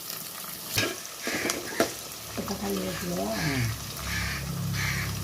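Onions and curry leaves sauté in a pan for fish curry, a steady close sizzle with scraping stirs and a few sharp utensil knocks, while a voice speaks over the cooking.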